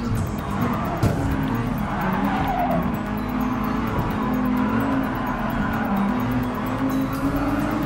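Race cars in Gran Turismo Sport, an Aston Martin, LaFerrari and Nissan GT-R in a standard motorsport event, with engines droning steadily and tires squealing in a long continuous skid.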